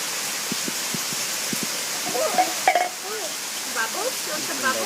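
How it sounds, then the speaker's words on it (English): Heavy rain pours down outdoors in a steady hiss across the whole clip, with a voice and short chirpy vocal sounds breaking in over the downpour. "Look how hard it's raining."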